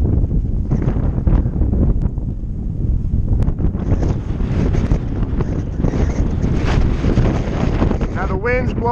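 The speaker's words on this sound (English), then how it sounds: "Wind's blowing 150 mile an hour, so I hope you can hear me." Strong outdoor gusts roar continuously into a microphone, loud and steady with low rumbling buffets, while someone walks a pitbull near a bicycle; talking joins briefly near the end.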